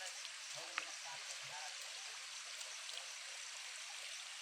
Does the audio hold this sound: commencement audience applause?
no